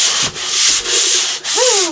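Wood is sanded by hand at a cabin, with three long, loud rasping strokes separated by brief pauses, close and alone, and a short squeak at the end.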